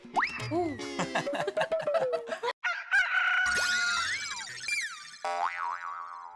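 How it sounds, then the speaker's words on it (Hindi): A rooster-like crowing call with bright, sliding tones, mixed with springy boing-like effects and clucking sounds, fairly loud and busy throughout. "तुम्हें मुर्गी की आवाज आई अभी?"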